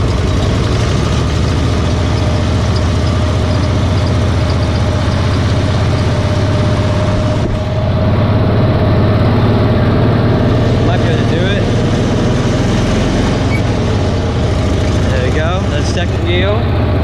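A Cushman Truckster utility vehicle idles in gear with a steady, loud, low engine drone that holds constant throughout, close to the microphone and with no pauses.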